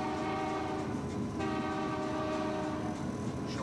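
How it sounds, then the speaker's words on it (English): A locomotive whistle sounds from inside the cab of a Canadian passenger train, a loud, close, sustained tone over the rumble and rattle of the moving train. "That's a whistle. Whistle."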